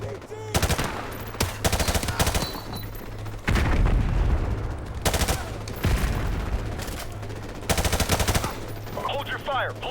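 Bursts of automatic gunfire and heavy shots from a Call of Duty 4 Remastered campaign battle, several loud volleys separated by short pauses, with distant shouting and a steady low hum beneath.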